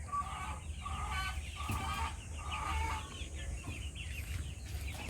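Silkie hens cluck in a small backyard flock, with repeated short clucks and calls in a steady rhythm, close by and moderately loud.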